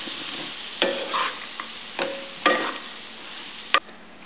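A Brussels sprout and zucchini curry, just dressed with lemon juice, is stirred in a pan, giving about five short separate scraping strokes over quiet background crackle.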